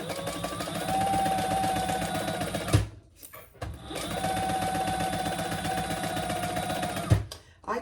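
A sewing machine stitches a crossbody bag, its steady close mechanical whir and rhythmic needle chatter running in two long bursts with a brief pause and clunk between them.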